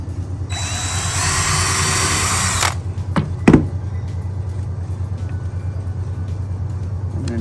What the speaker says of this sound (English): I'm going to drill this in, screw it in.